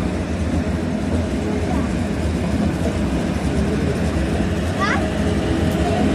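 A passenger train, the Silk City Express bound for Rajshahi, arrives at a station, rumbling steadily nearby, a continuous loud clatter of wheels and engine with a brief high squeal of brakes partway through.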